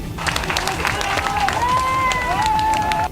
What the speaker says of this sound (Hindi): उन्होंने तालियां बजाकर एक दूसरे का हौसला बढ़ाया।